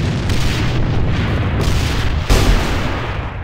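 Grenade blast in a multiplayer shooter video game: heavy, rumbling explosion noise with a second sharp burst partway through, loud and close, no talk over it.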